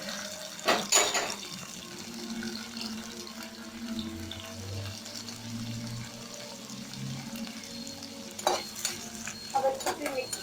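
Chili and onion stirred into an atta dough mixture: soft repeated stirring and mixing sounds over a faint sizzle-like hiss, close, with a couple of sharper knocks near the start and end and no talk.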